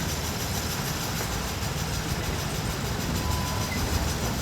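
A metro train rumbles past nearby, a loud steady roar with rolling wheel noise on the rails and no talking.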